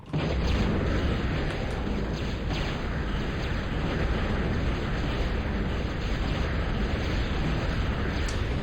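Explosions wiping out missile towers and a metal extractor in a real-time strategy game match, a dense continuous rumbling roar of blasts with scattered pops throughout.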